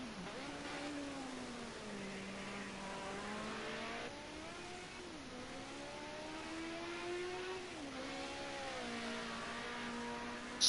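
A Ford Sierra Cosworth race car in a racing game at Bathurst, its engine droning steadily and shifting pitch through gear changes, continuous and fairly close with no talking.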